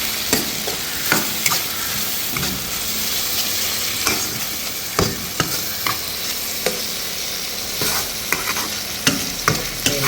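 Nasi goreng pattaya stir-frying with tomato sauce and ground pepper, a loud dense sizzle topped by regular clacking scrapes of a spatula against the pan, close up and free of talk.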